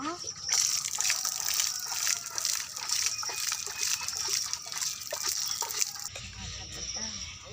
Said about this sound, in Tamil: தண்ணி தெளிச்சுக்கோ